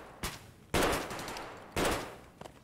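Gunfire in the Escape from Tarkov video game: a short burst of loud, sharp shots and two heavy reports about a second apart, each trailing off with echo, alone with no talk.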